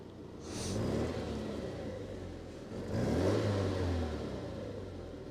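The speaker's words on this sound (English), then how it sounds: "Can I give it a rev?" A Ford Sierra Sapphire GLS in neutral, nearly new with very low miles, revs up twice in deep rumbling bursts, the second swell louder and longer, with a brief high whine early on.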